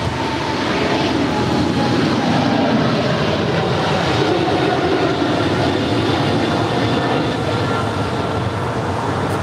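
An airliner landing on runway 25 left at LAX produces a loud, continuous broadband jet roar that stays steady from start to finish.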